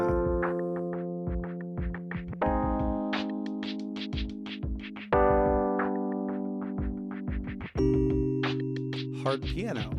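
A gritty electric piano synth plays sustained chords over a simple drum beat with hi-hat ticks, steady and close, no voices.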